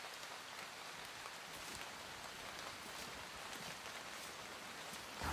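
Steady rain falling outdoors among leafy, mossy greenery, a continuous even hiss of drops with no talking.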